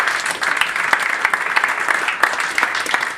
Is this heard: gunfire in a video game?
no